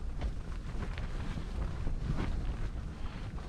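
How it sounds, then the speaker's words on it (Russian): Strong gusty wind buffets an ice-fishing tent on a northern frozen lake, a steady low roaring rush with rumbling swells through the whole stretch, close to the microphone, with no talk. "Ветер что-то разыгрывается прям."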